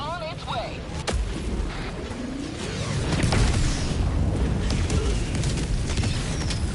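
Napalm barrage airstrike in Helldivers 2: heavy rumbling explosions build into a sustained roaring barrage, loud and dense, with a voice talking over parts of it.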